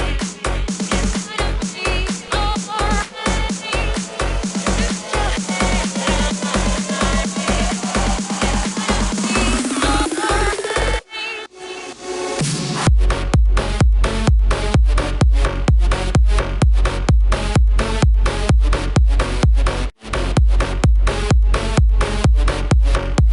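Melbourne bounce super saw lead synth made with Serum: a loud, bright, pulsing lead plays rhythmic stabs, rises into a sweeping build, breaks briefly, then returns over a pounding bouncy kick pattern. No voices.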